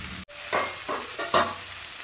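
Vegetables for a Bengali bitter-gourd shukto are stirred in a pan, giving a quiet sizzle broken by several scraping, rustling strokes in an uneven rhythm.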